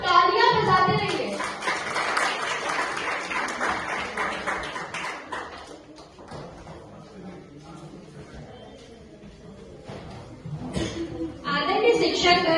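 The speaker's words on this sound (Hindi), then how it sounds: "आप लोग तालियां बजाते रहिए।" Students and teachers clapping at a voter campaign event at a Patna institute, a burst of clapping at the start that thins out, then faint room noise with scattered taps before clapping swells again at the end; a voice is heard in places.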